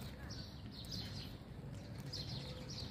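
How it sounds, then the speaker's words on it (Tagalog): Birds chirp in short repeated bursts among trees in the Abu Dhabi desert, faint and somewhat distant over a low rumbling background, with soft footsteps or movement. "Daming ibon dito. Tweet-tweet na rinig nyo."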